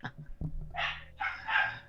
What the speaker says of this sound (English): Doggo's going crazy.